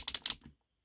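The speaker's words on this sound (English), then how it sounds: "A nice clicky ratchet joint all the way around." Clicky ratchet shoulder joint on a Transformers Leader Class Starscream toy, heard as four quick close plastic clicks followed by a faint fifth click after a brief pause.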